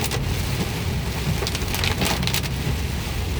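Heavy rain from a thunderstorm around Metairie, heard from inside a moving car, makes a dense, continuous hiss and drumming on the vehicle that stays loud and even throughout, with no voices.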